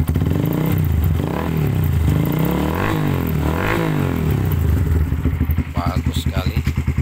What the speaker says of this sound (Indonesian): Bagus sekali, bulat untuk suara mesinnya